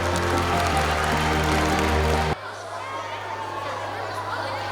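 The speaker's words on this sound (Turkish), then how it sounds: "Kocaman bir alkış geliyor" Audience applause at a children's international science festival, a loud burst of clapping and chatter over music that cuts off abruptly halfway, leaving quieter room noise.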